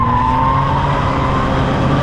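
A Genesis G70 accelerating hard in Sport Plus mode, its engine and road noise a loud steady roar with a rising tone over two seconds.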